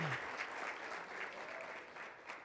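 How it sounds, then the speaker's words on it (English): A small audience at a softball signing ceremony gives the family a round of applause, steady clapping from many hands that stays fairly soft and continuous throughout. "let's give mom and dad and the whole family a round of applause"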